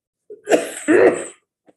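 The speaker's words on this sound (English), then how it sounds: "I saw you have a cold cough." A person coughs in two harsh bursts, clearing the throat, followed by a faint short rasp; close and fairly loud with no talking.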